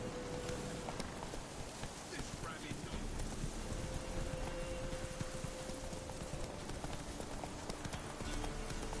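Horse hooves in the video game The Witcher 3 clip-clop in a steady walking rhythm over a busy background, with a faint voice and a sustained tone in the mix.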